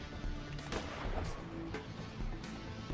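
Scattered gunshots in the point-and-click game Gemini Rue, a few sharp cracks at irregular intervals over a dull, low background, moderately close but not very loud.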